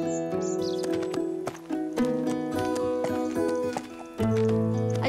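A showmanship horse walks at a handler's cues, its soft hoofbeats tapping irregularly beneath steady, fairly loud music for about five seconds.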